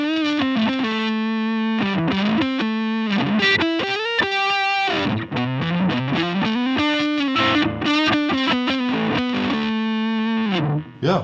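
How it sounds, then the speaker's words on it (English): Electric guitar through an Ibanez MS10 Metal Charger distortion pedal on a humbucker pickup, playing sustained, heavily saturated melodic lines with smooth, compressed tone, loud and continuous without talk. "But with the distortion up, this pickup, this humbucker, it's produced smoother tone."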